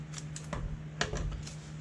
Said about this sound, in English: Then I got a package of active dry yeast. I'll just cut that open.